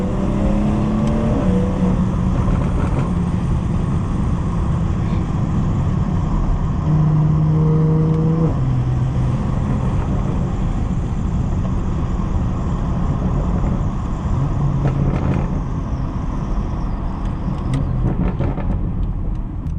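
A modified BMW 440i in Sport Plus mode rumbles loudly and continuously from inside the cabin, with engine revs rising and falling in a few short surges over a constant deep drone.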